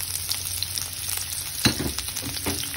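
Sliced onions fry in hot oil in a pan, a steady soft sizzle with occasional stirring scrapes and a brief louder clatter partway through.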